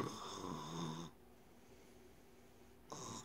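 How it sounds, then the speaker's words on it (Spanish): Snoring from a woman, a loud raspy breath rising and falling at the start, a quiet gap, then another snore beginning at the end. "yo sí ronco, chicas, la verdad, yo sí ronco."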